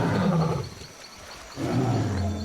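Deep, growling dinosaur roars from the game Jurassic Park: Operation Genesis, two loud bursts separated by a brief quieter gap, with a rough, bellowing character.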